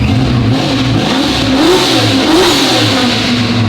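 A Procharged 6.2 V8 in a squarebody Chevrolet C10 truck revs and rumbles continuously through a loud muffler exhaust, pitch rising and falling in a few surges, close by.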